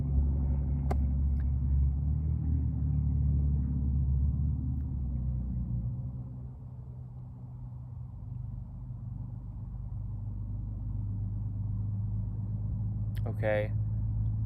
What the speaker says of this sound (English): there's a truck passing.